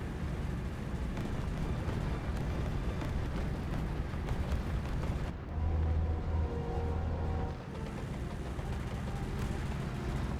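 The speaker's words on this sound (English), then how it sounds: "SBA is still firing off. I hear him there in the background popping" An SBA armored car fires in a War Thunder battle amid dense, continuous rumbling gunfire and explosions, the popping shots blending into a loud, chaotic wash of combat noise.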